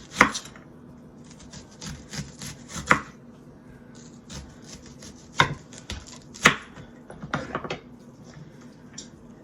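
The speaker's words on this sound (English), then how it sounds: "we're going to slice a Vidalia onion" A knife slices through a Vidalia onion on a board, making a series of sharp, separate chopping thuds spaced irregularly, close and fairly loud, with faint kitchen background in between.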